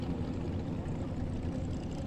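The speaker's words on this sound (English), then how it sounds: "The zoomy headers makes it sound like a top alcohol dragster." A supercharged dragster with a blower and zoomy headers, sounding like a top alcohol dragster, runs at Luskville Dragway. It gives a continuous low, rough rumble at moderate distance, steady in level and alone.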